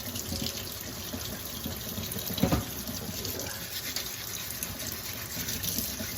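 Beets scrubbed by hand under a steadily running kitchen tap, water splashing continuously into a sink with a brief louder gush midway.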